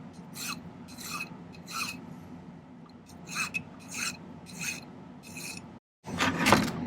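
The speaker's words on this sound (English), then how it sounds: "It's going to take a little filing" A hand file rasps a small silver pendant piece to a taper, a run of about eight short scraping strokes in steady rhythm, close and clear, then a brief pause and a louder final rub.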